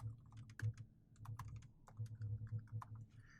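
Alt text typed on a computer keyboard while editing a web page, a quick close run of soft key clicks in uneven bursts, quiet and alone.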